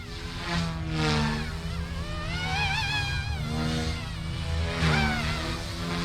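A Blade Infusion 180 RC helicopter flies in idle-up mode, its rotor and motor making a loud, steady high whine that swoops and bends in pitch as it maneuvers close by, with no talking.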